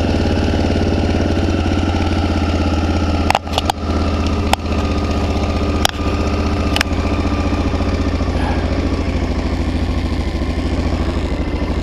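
A 1985 Honda XL 600 motorcycle engine runs steadily at a loud, close idle with a thumping low drone, broken by a few sharp mechanical clacks early on.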